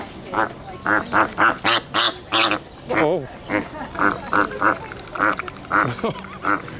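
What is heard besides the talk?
flamingos calling at the zoo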